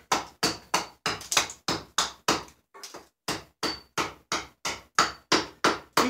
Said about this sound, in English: if you didn't feel like hacking away with the axe